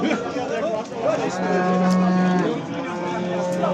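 A cow or heifer at a livestock bazaar gives a long, loud, close moo in the middle, with crowd chatter and the noise of other animals around it.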